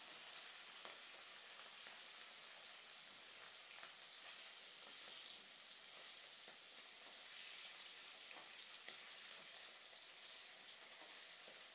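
Fish curry with brinjal, potato, lentil dumplings and onion sizzles and fries steadily in a pan, a continuous soft crackling hiss with occasional louder pops, no voices.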